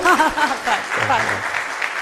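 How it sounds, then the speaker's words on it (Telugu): Audience clapping at a public talk on a survey report, a short burst of applause heard under a voice speaking over it. "మీరు క్లాప్ ఇప్పుడు కొట్టండి"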